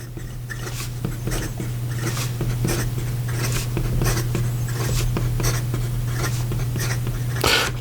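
Visconti Medici Il Magnifico Serpentine fountain pen writing quickly on paper, a close continuous scratching with rapid stroke rhythms, steady and fairly loud against a faint background hum.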